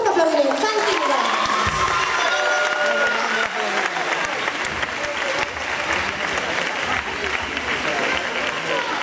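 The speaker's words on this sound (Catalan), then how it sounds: "Un fort aplaudiment, fan tímida!" A concert audience at a summer camp breaks into loud applause with cheering and crowd noise, sustained clapping filling the whole stretch while voices shout over it.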